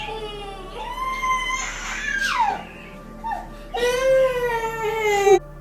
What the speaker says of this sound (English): She then lets out a bone-chilling scream out of nowhere after seeing something in the corner of the room.